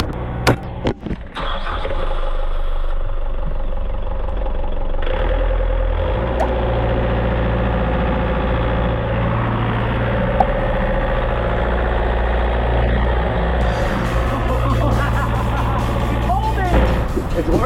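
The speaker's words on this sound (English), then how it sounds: "Once we got the engines working again, it was pretty smooth sailing considering everything." Boat engines run steadily after a repair made with zip ties during a stormy sail, a loud continuous low rumble with a few sharp knocks at the start and a voice faintly underneath.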